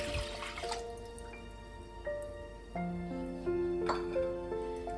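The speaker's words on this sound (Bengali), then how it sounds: "ছানাটা যতক্ষণ আমার জল ঝরছে" Water dripping from freshly made chhana as it drains. Clear, ringing drops fall one after another at an uneven pace into water below, close and quiet with no speech.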